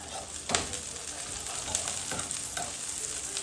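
Ginger and onion sautéing in a frying pan give a steady close sizzle with occasional sharper stirring clicks and scrapes, loud and continuous with no talk.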